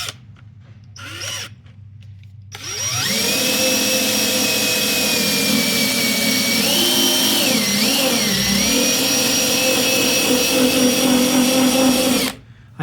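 A power tool spins up after a couple of soft knocks and holds a loud, steady high-pitched whine for about ten seconds, dipping briefly in pitch under load, while working an old decal off a car, then cuts off abruptly.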